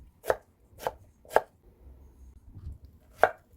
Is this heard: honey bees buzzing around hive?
no